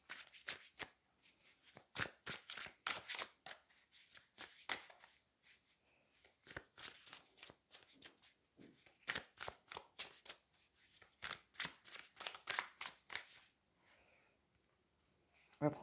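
Tarot cards from the Wild Unknown deck are shuffled by hand in bursts of quick, crisp riffling and slapping. The bursts are close and come in irregular clusters with brief pauses between them, and a voice speaks softly over parts of it.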